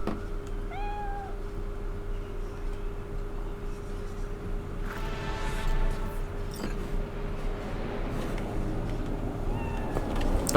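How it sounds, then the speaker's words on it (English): Cat in the Cyberpunk 2077 video game meowing a few times, short rising calls near the start and end, over a low ambient game hum with a brief clatter in the middle. "Ooh, a cat."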